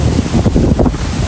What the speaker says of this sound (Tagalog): Doon nga po sa loob natin ay rinig na rinig yung tunog ng hangin.